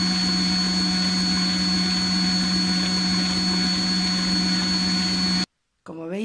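A kitchen blender whirs steadily as it mixes sugar for a Suchard chocolate sponge cake, a constant loud motor whine for about five seconds that cuts off abruptly, followed by a person speaking.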